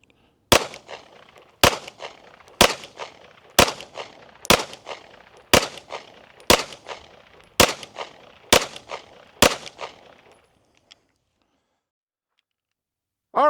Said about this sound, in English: We're going to shoot some reloads, some factory ammo. Going to shoot a few 10-shot groups here.